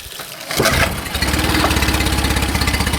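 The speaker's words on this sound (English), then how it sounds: "let's just start it up the way you normally start up. No choke, 2 pumps on the ball, and let's pull it" A Mercury outboard motor is pull-started with no choke after two primer-bulb pumps; a quick yank gives way to the engine catching and settling into a loud, steady, rapidly pulsing idle close by.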